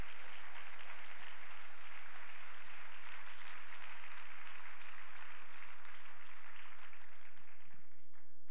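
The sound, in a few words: congregation applauding in church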